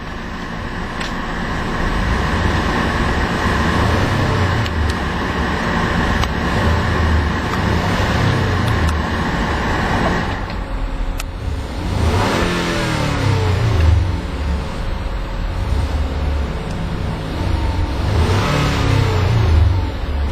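The 2012 Ford Explorer's small four-cylinder EcoBoost engine starts, runs steadily and then revs up in several rising bursts, close and fairly loud, with no talking.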